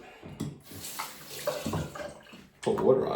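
Water poured onto the diatomaceous earth plates of a razor caddy, a wet splashing and trickling in several short bursts with a louder, fuller pour at the end, close by.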